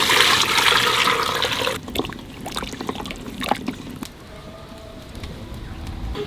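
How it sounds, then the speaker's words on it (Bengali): Boiled goat trotters and their cooking water tip into a pot of spiced oil, a loud steady rush and splash for about two seconds, then quieter sizzling with scattered knocks and drips. "যেই পায়াগুলো সেদ্ধ করে রেখেছে ওগুলো জল সমেত এর মধ্যে দিয়ে দেবো"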